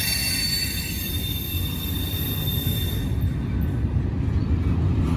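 A heavy intermodal container freight train rumbles steadily past at close range, with high wheel squeal ringing over the low roar until it fades near the end.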